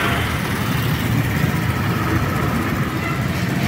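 A 2024 Motorstar ADV 175 fuel-injected scooter engine runs steadily close by, a loud, even mechanical hum with no talking.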